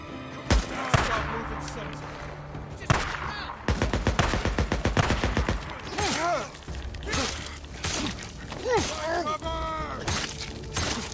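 Gunfire in Days Gone cracks out in repeated loud shots and short rapid bursts, mixed with impact and creature-like shrieks, while someone talks excitedly over the action.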